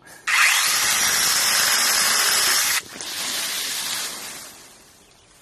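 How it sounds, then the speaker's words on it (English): A loud 6-inch electric chainsaw cuts steadily through wood, pauses briefly, then resumes cutting at a slightly lower pitch before winding down. "My goodness, that's cutting great"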